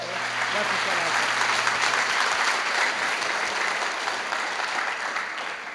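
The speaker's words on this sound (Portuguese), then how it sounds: "Vamos aplaudir o Senhor novamente?" A church congregation applauds in a continuous, even roar of clapping that holds steady throughout, with faint voices mixed into the crowd.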